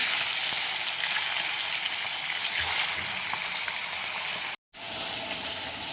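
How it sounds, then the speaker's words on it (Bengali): Pomfret fish fry in mustard oil in a wok, a dense, close, steady sizzle that runs throughout with only a momentary break near the end. "এখানে কড়াই তেল দিয়ে নিয়েছি, মাছগুলো ভেজে নেব"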